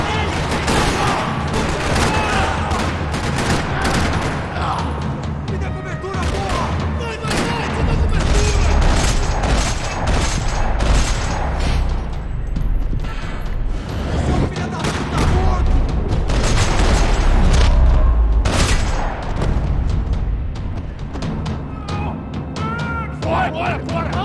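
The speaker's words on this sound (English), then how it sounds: "Another parking lot rattling with gunfire." Sustained gunfire echoing across a parking lot, dense overlapping rapid shots and booms at high loudness for over twenty seconds, with voices partly buried in the din.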